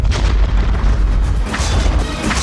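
A loud, dense explosion from a TV drama promo rumbles with deep, sustained low-end energy and crackling debris throughout, filling the whole stretch with no talk over it.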